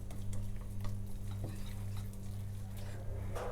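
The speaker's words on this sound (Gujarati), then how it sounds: "બધા લમ્પ્સને ભાંગી લઈશું" A spoon stirs thick batter for tomato bhajiya to break up the lumps, making a close, quiet and steady rhythm of soft scraping and wet slaps against the bowl.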